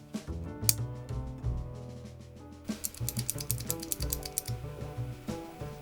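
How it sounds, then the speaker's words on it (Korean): Clicky mechanical keyboard typing on FL-CMMK Ice Green click switches with lubricated jackets and springs, a rapid run of sharp, close keystrokes layered over steady background music. "FL-CMMK 아이스그린은 비교적 저렴한 가격임에도 자켓의 돌기 부분과 스프링에 윤활이 되어 나오는 스위치로 클릭 스위치에 입문하기 적절한 스위치라고 할 수 있겠습니다"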